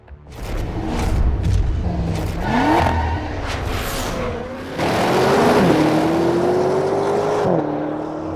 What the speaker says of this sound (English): The soundtrack is the closer, rich, metallic, and unmistakably Italian, a final, unfiltered V8 chorus before the curtain falls.